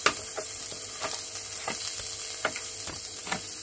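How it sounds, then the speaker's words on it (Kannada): Onion frying in oil in a pan for sambar, sizzling steadily close up with a spoon scraping and stirring every half second or so; no one talks. "ಎಣ್ಣೆ ಹಾಕ್ಕೊಂಡು ಇದನ್ನು ಒಂದು ಸ್ವಲ್ಪ ಕೆಂಪುಗೆ ಹುರ್ಕೋತಾ ಇದ್ದೀನಿ"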